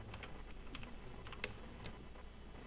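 Keyboard keys pressed for Photoshop shortcuts, a scattering of light, close clicks and taps at an uneven pace, one slightly sharper press in the middle, over a quiet room hum with no talking.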